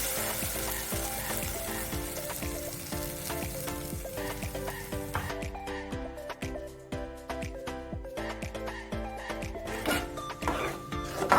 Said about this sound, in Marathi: आता आपण ह्याच्यामध्ये ही प्युरी टाकून घेऊयात